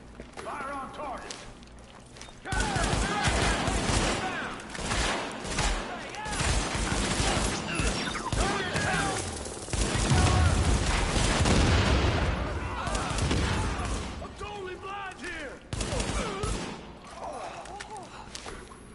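Sustained heavy gunfire in Tom Clancy's The Division, dense overlapping bursts and volleys rolling almost continuously, with voices talking over the shooting.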